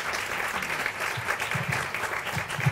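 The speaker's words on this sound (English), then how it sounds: "If you give them all a round of applause." An audience at a peace conference technology panel claps steadily, a dense and sustained round of applause filling the room.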